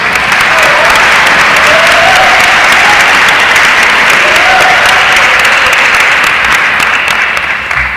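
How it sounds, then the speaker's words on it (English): Big round of applause from a large audience of Boys Nation Senator candidates' supporters at an Arkansas Boys State party primary assembly, steady dense clapping loud and sustained throughout with no speech over it. "One more big round of applause for all of our Boys Nation Senator candidates."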